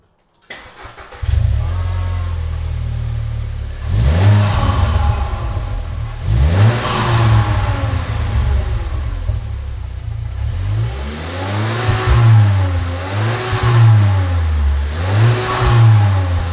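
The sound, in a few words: VW Jetta Mk7 engine revving with quad exhaust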